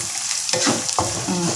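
Spices for a mixed vegetable sambar tempering in hot oil in a pan: sharp bursts of sizzling crackle flare up in a few quick surges, close and bright, with stirring in between.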